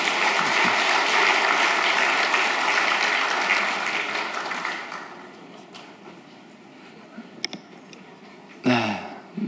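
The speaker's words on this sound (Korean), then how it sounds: "큰 박수 부탁합니다." Applause from a large church congregation, loud and dense at first, then fading away to scattered claps and quiet room noise.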